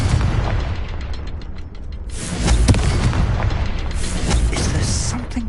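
Confringo fire spell explosion in the Hogwarts Legacy video game, a loud booming blast over continuous rumbling game ambience, with a sharp burst near the middle.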